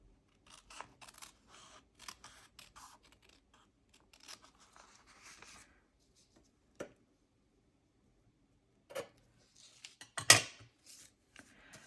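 Scissors cutting off a bulky section of paper while making an accordion fold journal, with a few sparse, close snips and rustles spread over quiet gaps, ending in one louder crisp cut.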